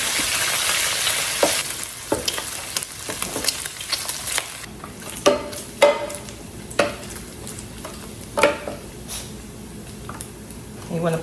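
Bacon sizzling and crackling steadily in a skillet, with louder bursts as strips get turned and pushed around, and a person talking over the frying.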